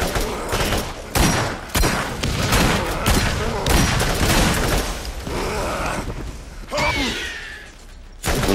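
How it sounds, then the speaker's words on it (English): Rapid, loud, close gunfire and mechanical clanks from a Carnage shotgun in the video game Borderlands, with repeated blasts through a chaotic firefight while players talk. "Carnage shotgun."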